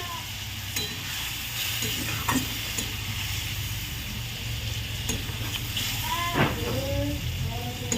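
Spice masala sizzling and frying in oil in a home kitchen pan, a steady bright hiss with occasional stirring scrapes and clinks, close and continuous, with faint background sounds.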